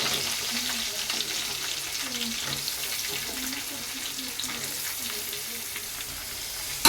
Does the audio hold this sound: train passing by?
no